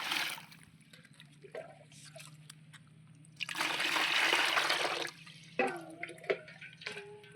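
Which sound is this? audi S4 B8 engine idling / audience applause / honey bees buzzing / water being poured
water being poured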